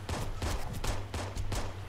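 Rapid bursts of heavy automatic gunfire from a mounted gun in the video game Halo, loud and continuous, with repeated shots over a low rumbling drone.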